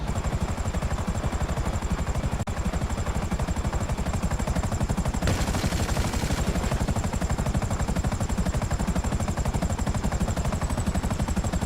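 A helicopter in GTA 5 Online flies with a loud, fast rotor chop while its guns fire in sustained rattling bursts, all constant and close throughout.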